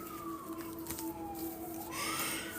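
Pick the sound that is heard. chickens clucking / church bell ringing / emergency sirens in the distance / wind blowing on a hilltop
emergency sirens in the distance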